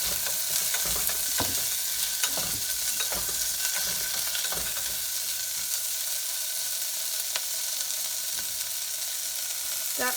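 Tomatoes sautéing in a pan for horse gram dal, a continuous close sizzle with repeated clicks and scrapes of stirring, and no voices.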